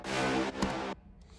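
A layered brass hit from a melodic house track, a digital brass synth stacked with a realistic brass sample, sounds as one short, dry, punchy note with bright mid-high bite before cutting off abruptly.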